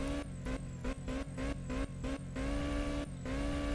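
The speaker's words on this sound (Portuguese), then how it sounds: "Mano, o motor do carro ficou muito bruto." A tuned car engine in a video game runs rough and brutal, with repeated rhythmic revving surges and drops in pitch, loud and close, with no talking.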